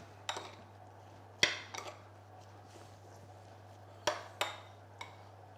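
Salad ingredients are tossed in a bowl with salt and pepper, giving a few sparse, faint clinks and scrapes of a utensil against the bowl separated by quiet gaps over a low steady hum.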